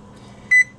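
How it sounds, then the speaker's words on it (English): A kitchen oven timer sounds two quick, close electronic beeps as it is set, with faint room tone around them. "And we're going to set the timer"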